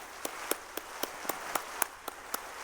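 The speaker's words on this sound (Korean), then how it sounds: "우리 뜨거운 박수로 환영하겠습니다." Church congregation at a Sunday worship service clapping to welcome a visiting university president, heard as a sparse, fairly quiet run of single claps spaced about a quarter second apart rather than a full ovation.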